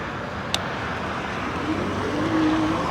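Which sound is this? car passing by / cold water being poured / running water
car passing by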